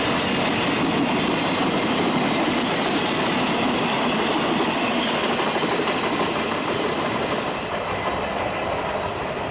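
A long Union Pacific military transport freight train rumbles past close by on the Enid Subdivision, a steady loud roar of rolling wagons with faint clacking and wheel squeal throughout.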